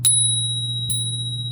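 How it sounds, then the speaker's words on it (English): A Spurcycle original bicycle bell is struck twice, each strike opening with a bright metallic ping and then ringing on as a long, clear, sustained tone over a steady low hum. "Get the Spurcycle original bike bell."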